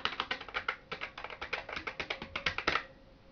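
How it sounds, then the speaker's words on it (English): Rapid, uneven clacking of keys on the noisy QWERTY keyboard of an Amstrad PCW 8256 computer, close and alone for a few seconds, with a slightly echoey ring. "It is quite a noisy keyboard,"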